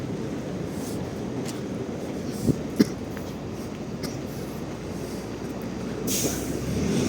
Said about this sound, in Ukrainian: іде трамвай двієчка